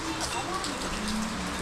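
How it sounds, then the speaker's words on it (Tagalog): Heavy rain pours down in a steady, dense hiss over a garden plot readied for planting pechay, with a voice talking over it. "Ayan na, umulan. Sobrang ulan."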